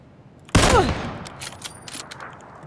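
An AKM rifle in the game PUBG fires: a sudden loud burst of gunfire after a quiet start, followed by a decaying tail and a few fainter distant shots or impacts.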